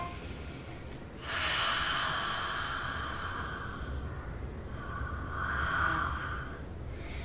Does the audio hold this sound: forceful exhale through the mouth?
yes